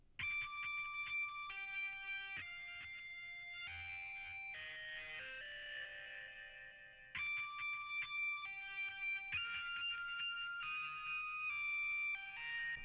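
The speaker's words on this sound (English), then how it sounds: "Very, very quiet, but distorted and high-pitched sound." A quiet, distorted high-pitched guitar sample in a pluggnb beat plays in sustained bursts, gritty and buzzing, with short breaks between phrases and no voices.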